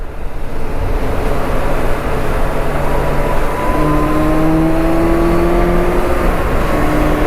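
A Kawasaki Versys 1000 motorcycle accelerating hard, heard loud and close from the rider's seat, its engine note climbing steadily under heavy wind roar.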